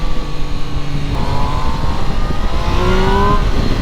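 A Triumph Tiger Sport 800 motorcycle engine revs up, its rising tone climbing steadily and loudly over a few seconds, close by with no talking.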